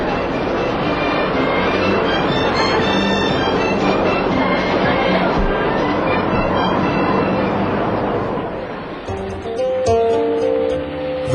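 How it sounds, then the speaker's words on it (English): A train running on rails on a long journey toward the Chinese border, a steady dense rumble with rattling wheels that holds throughout, then eases near the end as a brighter tonal squeal and clanks come in. "The Dalai Lama took the train for the first time"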